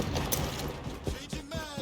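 Magazine swap on a gun in a video game, with a quick series of metallic clicks and ratcheting clacks, close and distinct, over busy in-game background noise.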